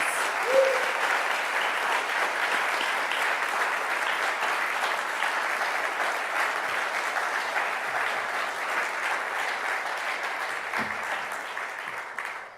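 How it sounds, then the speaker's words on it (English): An audience claps steadily at the 2017 Rainbow Key Awards ceremony, a dense sustained round of applause from a crowd that holds level and tapers off at the end, with no talking. "Let's give one more round of applause to Jewel Tyus Williams."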